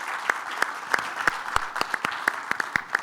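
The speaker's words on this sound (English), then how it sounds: "Let's give him a big round of applause again" An audience applauds a guest at a trucking business presentation with steady, moderately loud clapping from a mid-sized crowd, sharp individual claps standing out over a continuous patter.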